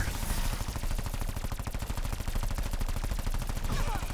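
The Cordite gun fires continuously in Black Ops 4 Zombies, a rapid automatic burst of evenly spaced shots rattling loudly without pause for the whole stretch.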